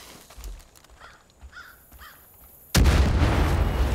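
A loud dynamite blast goes off in the video game Far Cry 5, a sudden heavy boom with a sustained roar after it, following a quieter stretch with faint calls in the background.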